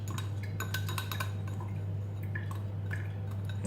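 A utensil stirs melted chocolate and butter in a bowl for a simple chocolate cake, giving light scraping, tapping and wet sloshing sounds in an irregular rhythm, close by, over a steady low hum.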